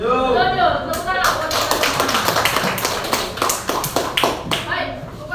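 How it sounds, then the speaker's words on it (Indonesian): Audience clapping breaks out at a teachers' competency workshop at an Indonesian primary school, a burst of claps after a voice, quick and fairly close. "Tepuk tangan."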